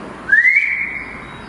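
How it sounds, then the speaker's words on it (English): A single clear whistle rises then holds a steady tone for about a second in a quiet indoor room during a ghost investigation at a WW2 air raid site, fairly close and alone without talk. "did you hear the whistle again?"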